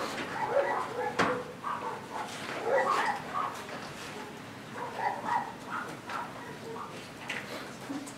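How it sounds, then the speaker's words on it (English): A dog barks and whimpers repeatedly somewhere outside a school board meeting room, faint and distant under a quiet room murmur. "that dog's going crazy"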